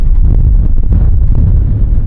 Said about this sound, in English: It's been so windy, the van is actually like quite literally shaking